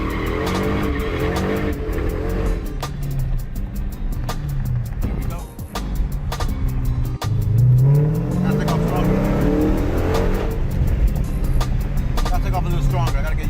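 A car on street tires revs and accelerates hard from a launch at a drag event, with loud engine roar, a rising pitch sweep mid-clip and bursts of tire noise, while people talk over it.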